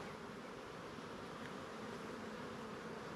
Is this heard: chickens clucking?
no